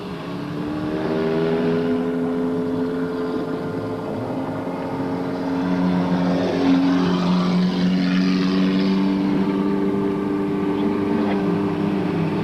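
A 1982 Chevrolet Cavalier race car on a victory lap at a racetrack, its engine a steady loud drone with rising and falling harmonic tones as it circles.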